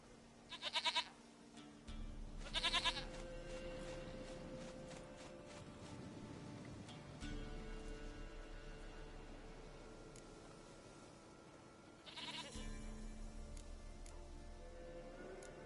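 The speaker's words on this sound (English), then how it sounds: "Goat of mine, dearest, sweetest goat." A goat in the video game The Witcher 3 bleats in several short, separate bursts spread over the stretch, fairly clear against a steady low background of game ambience.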